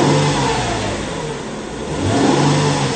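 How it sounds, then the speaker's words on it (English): A 2004 Mercedes-Benz CLK320 V6 revving near at hand, the engine swelling, easing back toward idle, then rising again, smooth and steady with no talking. "I'm just going to give her a bit of a rev for you"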